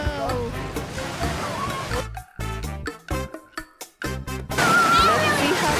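Lake Tahoe water sloshes and splashes as people wade in, loud choppy surges broken by short gaps, with talking mixed in.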